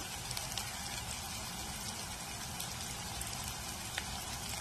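Small pieces of dried red chili frying in hot oil for Hyderabadi green chicken, giving a steady, dense sizzle and crackle that runs without pause, close and moderately loud, with no talking.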